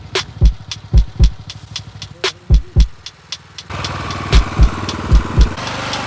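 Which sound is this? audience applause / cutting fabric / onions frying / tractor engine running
tractor engine running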